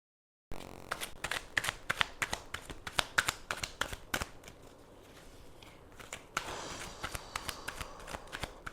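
Angel answer cards are shuffled by hand in a series of quick, crisp riffling bursts, close and fairly quiet, with short pauses between the flurries.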